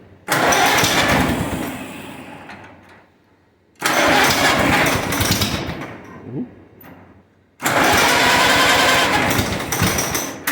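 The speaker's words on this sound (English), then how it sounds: "hopefully things have gotten a little better and it'll fire up for us easier now" An Allis Chalmers WD tractor engine, choked and in neutral, is cranked three times in loud bursts that sputter and fade before firing, close and rough, with nobody speaking over it.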